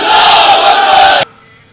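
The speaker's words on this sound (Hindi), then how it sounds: "जोरदार नारा लगा दो, नारे तकबीर, नारे तकबीर, नारे तकबीर" A large crowd at an election rally in Telangana roaring a slogan in unison in reply to Naara-e-Takbeer, loud and sustained for about a second before cutting off sharply.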